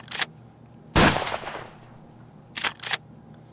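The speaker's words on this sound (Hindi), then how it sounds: "गन का आवाज़, गन हनी पाजी ने डाल रखा था। Gun FX," Gunshot sound effects played back in FL Studio music software: a short crack, then a louder booming shot with a decaying tail, and later a quick pair of sharp shots, all clean and isolated with no talk.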